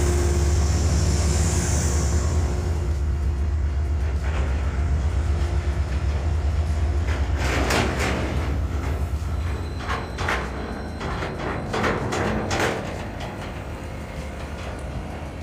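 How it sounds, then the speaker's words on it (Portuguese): A passenger train reverses slowly into the station, rumbling on the tracks with a steady low drone, then scattered metallic clanks and squeals as it creeps along. "Agora de marcha ré, o trem retorna para a estação"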